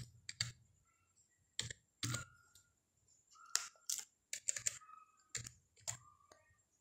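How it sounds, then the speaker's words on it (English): Crisp clicks of computer keyboard keys as an Excel formula is typed, arriving in short quick bursts separated by brief pauses, close and fairly quiet with no talking. "Now type dated if"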